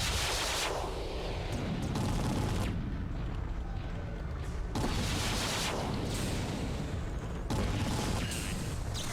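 Loud, sustained weapon fire from giant battle mechs in the video game Mechwarrior 3, dense bursts and booming volleys filling the whole stretch with brief lulls between barrages.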